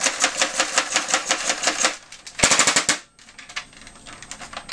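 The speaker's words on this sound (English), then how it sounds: "this is another somewhat vintage gun that's a ton of fun to play with. Rapid fire 20." A vintage Nerf Rapid Fire 20 toy blaster fires a rapid burst of sharp, close mechanical clacks, pauses briefly, then lets off a second quick volley before softer rattling handling noise trails off.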